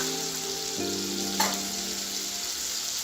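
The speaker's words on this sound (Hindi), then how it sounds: "बस थोड़ा सा टमाटर फ्राई हो चुका है तेल के साथ" Tomato frying in oil with cumin powder and other spices for a vrat-style potato curry made without garlic or onion, a steady close sizzle with a faint tonal hum underneath and a brief clatter midway.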